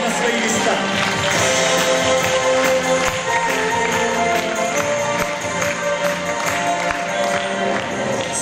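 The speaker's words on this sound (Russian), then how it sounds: "Под бурные аплодисменты зала летите прямо к новым высотам на свои места." Awards ceremony audience applauding steadily throughout, a dense wash of clapping with crowd noise and a brief spoken word over it.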